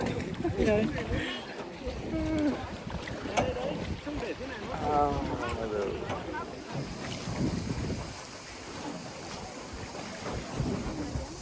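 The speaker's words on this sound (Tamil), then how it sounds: "அங்கேருந்து இப்போ அந்த போட்டில் வரோம்" Wind buffets the microphone and water rushes beneath a small boat gliding between the karst hills of Ninh Binh, Vietnam, while people talk over the noise throughout.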